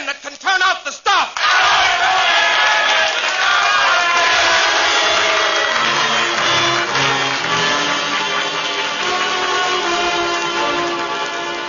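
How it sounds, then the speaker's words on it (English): A crowd cheering and shouting in a live radio theatre play, a loud dense roar of many voices that rises sharply after a brief opening and holds steady, close and sustained. "Now they're cheering, but will they act?"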